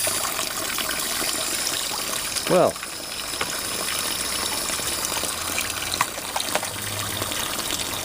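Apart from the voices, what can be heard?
water running into a barrel from a supply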